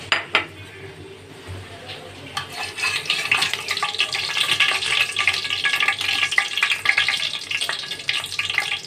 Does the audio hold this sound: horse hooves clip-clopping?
no